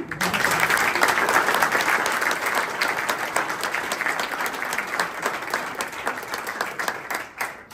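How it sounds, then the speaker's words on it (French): Audience at a golf club prize-giving bursts into sustained, dense applause, many hands clapping loudly and steadily for several seconds before tapering off near the end. "On l'applaudit."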